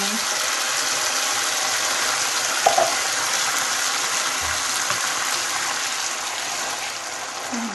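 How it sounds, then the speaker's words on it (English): A steady, loud sizzle of tomato sauce being poured slowly into a hot pan, with a faint clink partway through. "It's sizzling, but it's not spitting at me."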